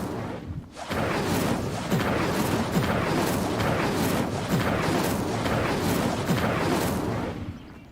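A fire spell cast in Hogwarts Legacy, a dense, sustained roaring burst of flames and crackling impacts that starts abruptly after a brief pause and holds loud and close for several seconds before cutting off.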